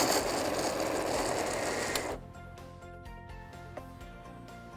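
A mixer grinder jar grinds peanuts, dates and rolled oats, a loud dense whir for about two seconds that cuts off abruptly, leaving a softer rattling hum and occasional clicks.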